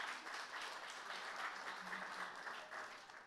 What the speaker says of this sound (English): our engineers back to China will be very happy to hear the applause